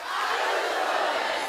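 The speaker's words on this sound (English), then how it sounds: "With claps like that, terrific." A television talk show studio audience claps and cheers together, a loud continuous roar of hands and whoops filling the whole moment without a clear speaking voice.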